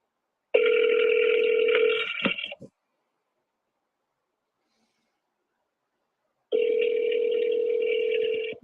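Two ringback tones sound over a telephone line while a call to leave a voicemail is placed. Each lasts about two seconds, with a long silent gap between them.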